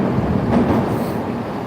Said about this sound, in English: Let's check the L train going by here.